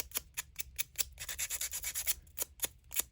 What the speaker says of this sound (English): So it might take some proper sanding